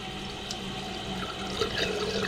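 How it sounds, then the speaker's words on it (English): Water runs continuously down the overflow tube of a toilet tank with a faulty fill valve, a steady close gurgling rush that grows slightly louder toward the end, with no talking. "now the water is running down the overflow"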